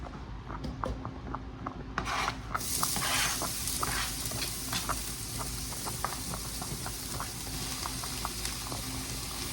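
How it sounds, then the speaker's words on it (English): Ground beef and chopped onion cooking in a pan for lasagna roll-ups, giving a steady loud sizzle with scattered pops and scraping rubs throughout, no talking. "I'm going to cook a pound of ground beef with some onion that I cut up"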